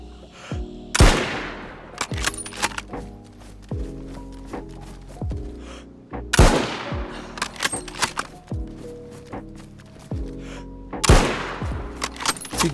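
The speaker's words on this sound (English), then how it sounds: "next I'll play the new Mosin sound effects" Mosin rifle shots in the video game DayZ: three loud, sharp reports spaced a few seconds apart, each with a long echoing tail, with faint clicks and handling noises between them.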